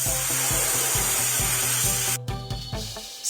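A spray gun applies varnish to a repaired police car in a children's animation, a loud, continuous airy hiss over a repeating rhythmic background pulse, cutting off abruptly near the end.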